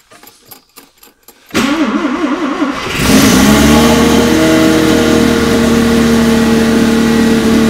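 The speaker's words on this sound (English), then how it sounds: "So this is a couple of week cold start." A Mazda RX-7 rotary engine cold-starts after sitting for weeks: a brief cranking whine, then the engine catches and settles into a loud, steady idle with a constant mechanical hum, close up with no talking.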